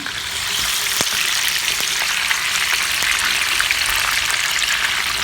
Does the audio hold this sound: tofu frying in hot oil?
yes